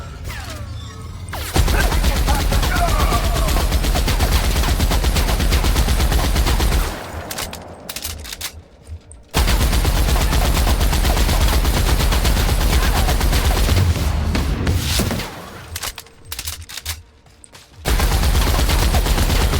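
Sustained automatic gunfire from The Outer Worlds pounds on in long, loud bursts, with mechanical clatter mixed in and two brief lulls before the shooting resumes.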